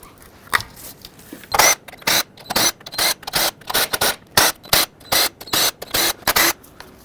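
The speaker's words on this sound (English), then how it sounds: "there are 8mm bolts all around that need to be loosened up" Ratcheting loosens 8mm bolts around a valve cover on a 2007-2010 Chrysler Sebring with the 2.4L engine: a steady run of about a dozen short, sharp clicking bursts, close and fairly loud, with no talking.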